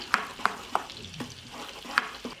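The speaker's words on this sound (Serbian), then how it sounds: "i odmah ćemo promešati i propržiti 20 sekundi" A spoon scrapes and stirs flour with sweet ground paprika frying in a pan, several sharp clinks at an irregular rhythm over a soft, low sizzle.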